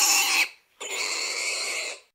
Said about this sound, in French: C'est le porcelet, ou si tu préfères, le petit cochon.